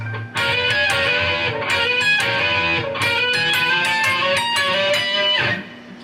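Electric guitar phrase built on an E dominant 7 chord shape sliding chromatically, from a solo; sustained chords ring out loud and alone in a few connected bursts, with no talking.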